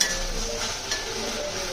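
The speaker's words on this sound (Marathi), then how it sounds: "टोमॅटो सुद्धा मी परतून घेते." Tomatoes sautéing in a pan while being stirred for an onion-tomato chicken dish, a steady soft sizzle with light scraping, no talk.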